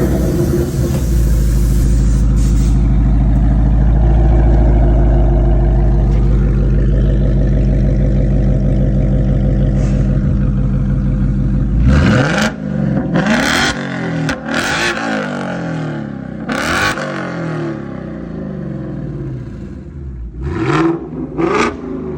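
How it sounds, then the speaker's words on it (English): A 2024 Ford Mustang GT S650 V8 with a Corsa exhaust holds a loud, steady high rev, then drops into a series of sharp throttle blips and growling revs close by, with no one speaking. "Definitely want a Corsa exhaust on the S650 Mustang."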